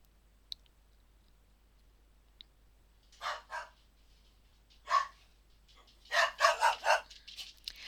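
A dog barks outdoors at a distance, a few separate barks followed by a quicker burst of four or five, heard faintly over a quiet room with a couple of small clicks.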